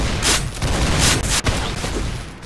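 Shotgun fire in Roblox, a few loud, close blasts spaced unevenly over a constant noisy din of game sound.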